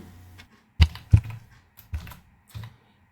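Several separate keystrokes on a computer keyboard while code is typed into a VB.NET console program, coming as two close taps followed by a few spaced single clicks, close and fairly loud over a quiet room.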